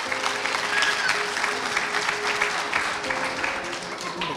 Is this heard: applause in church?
yes